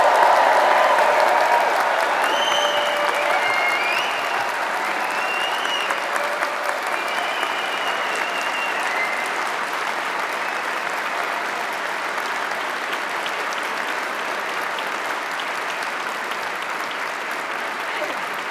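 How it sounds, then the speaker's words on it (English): A graduation crowd at a Convocation Hall ceremony for the class of 2025 claps and cheers in a continuous, full roar that holds steady throughout, with faint whoops rising above the clapping. "raise the roof of Convocation Hall in shouts, hollers, cheers, applause, everything you can do to celebrate the class of 2025"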